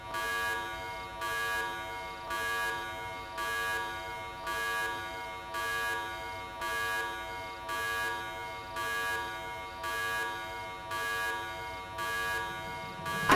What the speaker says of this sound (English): I should turn the buzzer off immediately, or Akshat will be upset.